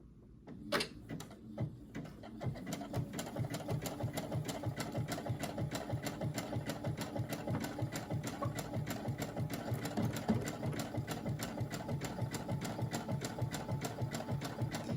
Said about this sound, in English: we're going to go ahead and sew this hem, and we're going to use the narrow zigzag